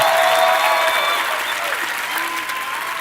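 A crowd at a motivational talk claps steadily and fairly loudly for the whole moment, a dense wash of applause with no pauses.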